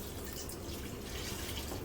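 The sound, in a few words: water poured into pressure cooker with mutton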